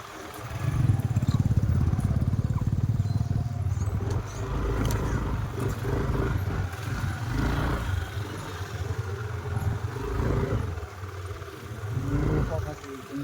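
A motorcycle engine hums and rumbles steadily while riding on a dirt road, with loose ground noise and wind. A voice speaks intermittently over it.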